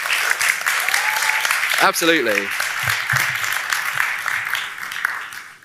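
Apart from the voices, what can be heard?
audience applause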